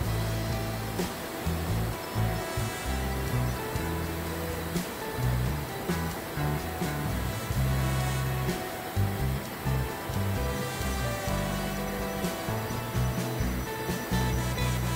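Heavy Krishna river flood water surges through the opened gates of the Prakasam Barrage, a loud, continuous roaring rush that holds steady throughout, with a low rumble underneath and no speech.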